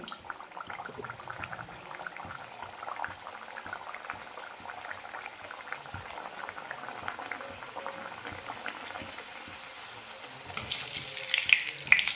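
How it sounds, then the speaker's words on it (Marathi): Kadakani, a fried festival sweet, deep-fries in hot oil in a wok. The bubbling, crackling sizzle runs continuously and grows a little louder toward the end, with no speech. "कढईमध्ये तेल तापायला ठेवलेले आणि तेल आता चांगलं तापलेले त्याच्यामध्ये आता ही कडकणी आहेत ना तळून घेते"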